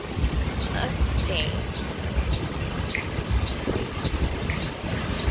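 Steady wind roars and buffets outdoors on a beach in Tulum, Mexico, a constant rushing noise with low rumble, loud and unbroken throughout.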